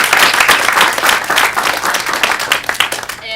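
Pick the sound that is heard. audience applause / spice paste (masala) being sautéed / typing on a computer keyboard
audience applause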